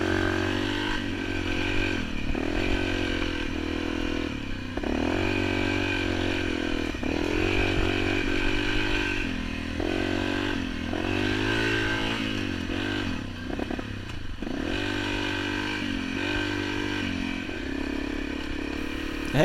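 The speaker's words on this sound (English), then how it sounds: "trying to keep the bike running until it figures out that it's a precision engineered, fuel injected machine" A fuel-injected Honda CRF250L dual-sport motorcycle engine labours up a steep canyon forest road in Utah, revving and bogging unevenly with loud, continuous throttle surges and clattering over rough ground, and no talking.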